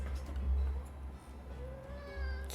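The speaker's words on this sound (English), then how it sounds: "See, my cat's arguing even." A house cat meows faintly in the background, a couple of thin rising and falling calls near the end over low room hum.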